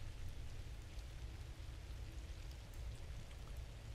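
Rain in the survival video game The Tribe Must Survive, a steady dense hiss of falling drops at low level, continuous throughout with no speech.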